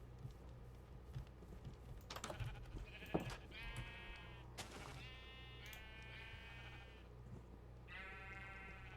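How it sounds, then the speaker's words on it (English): Several sheep bleats from a video game, wavering harmonic calls repeated at intervals over a steady low hum, with faint keyboard typing and occasional clicks underneath. "Listen to the sheep, chat."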